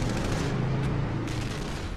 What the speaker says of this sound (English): They climb in and drive through gunfire towards Whitfield.